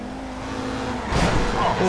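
A car races fast through traffic in Grand Theft Auto V while being chased by police, its engine drone building into a loud rushing surge with a brief tire squeal. A voice talks over it.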